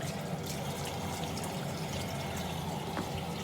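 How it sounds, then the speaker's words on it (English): Water runs steadily from a tap into a sink at moderate, even volume, a constant splashing rush with no voices. "So first, you want to wet your face."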